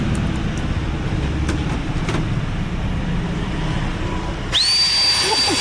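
An industrial air blower used by a street barber in Hanoi hisses among traffic noise, then starts up with a sudden rising whine that settles into a loud, steady rushing tone.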